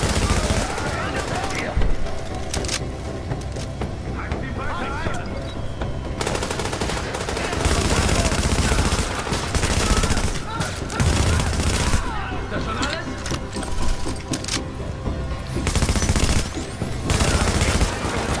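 Rapid gunfire from a turret in Tom Clancy's The Division, loud bursts and fusillades running through the whole stretch amid other game sounds, with a voice talking over parts of it.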